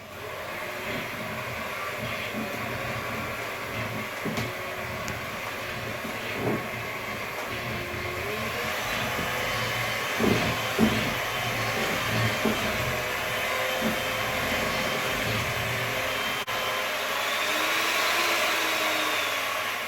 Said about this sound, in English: I'm just going to give it now a good beat to make sure it's all mixed up